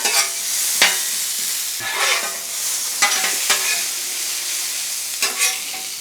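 Smash burger patties frying on a hot flat-top griddle, a continuous loud sizzle broken by several sharp spatula clacks and scrapes against the metal surface, close up with no talking.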